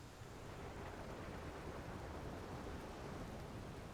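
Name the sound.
rain and thunder, from video game Outer Wilds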